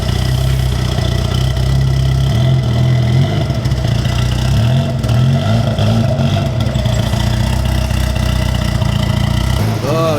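A 2.0-litre Honda Civic EG hatchback idles with a newly fitted exhaust, a steady low rumble with a slight uneven pulse holding for about ten seconds, close by and with no talking.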